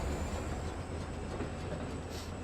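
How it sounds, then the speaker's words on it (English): A train rolling along rails in the game Foundry, heard from on board: a steady, even rumble with faint rhythmic clatter, continuous and unbroken throughout. "I don't have to worry about trying to catch the train, since I'm already on the train"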